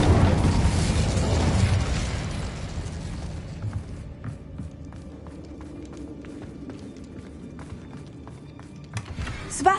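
Incendio fire spell cast in the Hogwarts Legacy video game, a loud fiery whoosh and rumbling burst at the start that fades into quieter crackling, scattered ticks and a small pop at the end.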